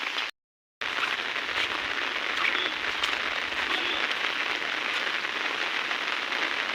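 Heavy rain pours down on a rainy day while cows graze, a dense, steady hiss of drops that continues without pause after a short silent gap at the start.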